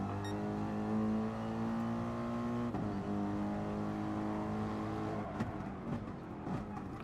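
A Mercedes race car at Suzuka Circuit in a racing game, its engine held at full throttle as a steady, fairly quiet harmonic drone, with brief clicks and shifts in pitch near the end.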